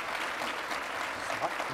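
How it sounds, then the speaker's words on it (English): A conference plenary audience applauds steadily for about two seconds, a dense, even wash of clapping at moderate distance with no talk over it. "So let's give them all a round of applause."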